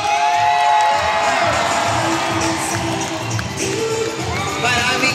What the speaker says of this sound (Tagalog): parinig po ng isang malakas na palakpakan na may kasamang hiyaw